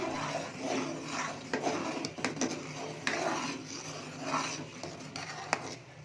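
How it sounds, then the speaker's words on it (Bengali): A spoon rubs and scrapes rice around the bottom of a pot of payesh in irregular strokes, close and fairly soft, with no voices. "এবার চালটা দিয়ে কিছুক্ষণ ফুটতে দিতে হবে, আর মাঝে মাঝে একটু নাড়িয়ে নিতে হবে যাতে পাত্রের নিচে চালটা না লেগে যায়"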